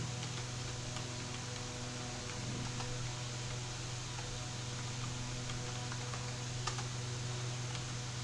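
Text is typed into Excel on a computer keyboard with quiet, scattered key clicks over a steady hum of a fan, nearby but faint, with no talking.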